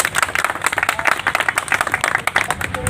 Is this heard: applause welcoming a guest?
yes